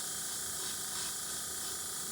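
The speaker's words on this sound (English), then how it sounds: "I'm just going to go ahead and flash dry it, just spraying air onto the spoon" An airbrush sprays a steady, continuous hiss of air onto a freshly painted spoon to flash dry the paint, close and unbroken with no voices.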